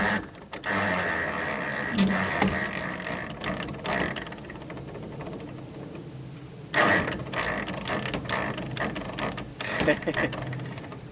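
A 2,500 pound winch straining to lift one end of a 1,100 pound log on a Granberg edging mill rail setup, close mechanical creaking and ratcheting with grinding gear noise in uneven bursts and brief pauses.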